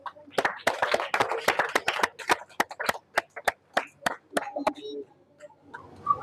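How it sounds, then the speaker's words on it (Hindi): A group of children claps loudly at a Shiv bhajan gathering, producing a fast, crisp run of claps that gradually thins into scattered individual claps before fading out. "चलो एक बार तालियां हो जाए जोरदार।"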